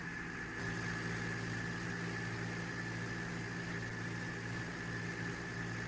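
A tractor engine in Farming Simulator 22 idles steadily with a constant humming drone and a faint whine, even and unbroken from start to end.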